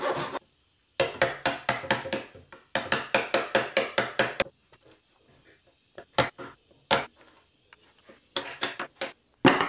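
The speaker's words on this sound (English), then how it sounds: "used my Japanese pull saw to cut curves into the wood and then remove all the excess" Rapid, rhythmic scraping strokes of a chisel removing excess wood from a lap joint in a table build, coming in close, dense runs with short gaps, then scattered sharper knocks and scrapes, with no talking.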